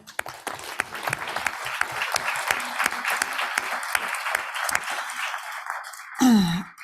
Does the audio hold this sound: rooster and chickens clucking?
no